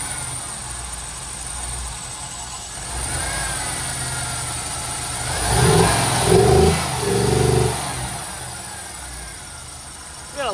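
An LS1 V8 engine idles and then revs briefly in uneven bursts, sounding rough and stumbling as it misfires, with a steady high whine throughout.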